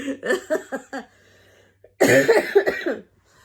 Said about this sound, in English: apologies for coughing ahead of time